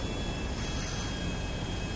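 Steady, loud airplane engine drone from a plane in GTA 5, an even continuous roar that holds throughout with no voices over it.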